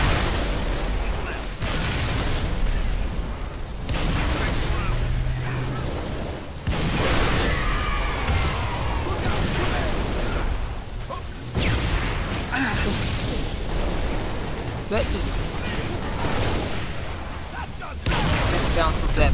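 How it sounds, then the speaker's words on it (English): Repeated loud explosive bursts of grenades going off in Halo Reach gameplay, several booms spaced across the stretch amid continuous battle noise and weapon fire, with faint voices underneath. "So many grenades."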